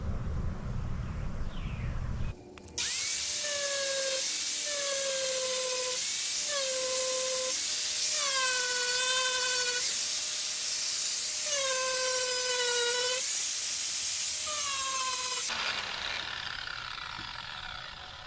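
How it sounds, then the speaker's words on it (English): An angle grinder fitted with a new grinding disc feathers rust-repair edges on a Chevrolet Suburban fender, a loud high-pitched whine that rises and dips in pitch as the disc bites and eases off the metal for about thirteen seconds. "So I'm going to try and feather in these edges with a grinder, new grinding disc"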